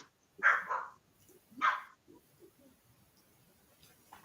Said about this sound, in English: hear the dog is sounding off